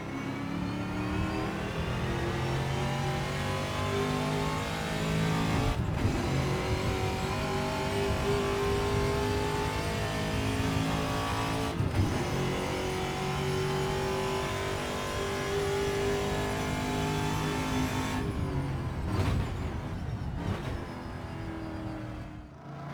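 A Trans-Am TA2 V8 race car engine in the Assetto Corsa video game growls and revs continuously, with a few sharp gear-shift cuts as it climbs and drops in pitch, loud and close.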